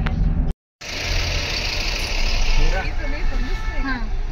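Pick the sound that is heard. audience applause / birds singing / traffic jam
traffic jam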